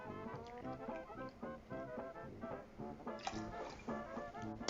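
151-proof Demerara rum poured into a cocktail, a steady gurgling trickle of liquid with small splashy drips, close and fairly quiet throughout.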